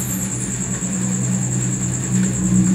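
A small Honda automatic scooter engine runs steadily up close with a rough, uneven knocking rumble and a high whine above it.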